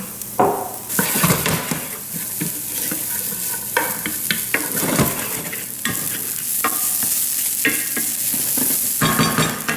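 Broccoli with chili peppers frying in a pan for a vegan burrito filling, a steady close sizzle broken by frequent stirring scrapes and clinks of a utensil against the pan.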